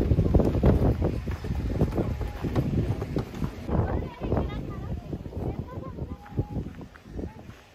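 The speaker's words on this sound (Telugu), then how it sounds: "విండ్ అయితే చాలా ఎక్కువగా ఉంది." Strong wind buffets the microphone on a mountaintop sky walk at Balwangsan near Yongpyong ski resort, a steady low roar rising into heavy gusts throughout, with muffled voices faintly underneath.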